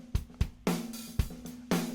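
A recorded drum kit plays uncompressed with close, punchy kick drum hits and sharp snare or cymbal crashes in an uneven rhythm, heard dry and fairly quiet over two seconds.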